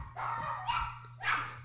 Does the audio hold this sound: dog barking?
yes